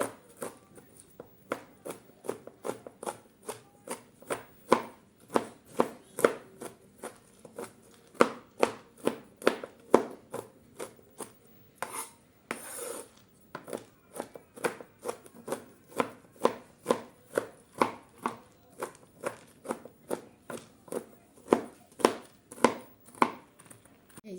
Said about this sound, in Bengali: এখন বাদামগুলো আমি একটু কেটে নিচ্ছি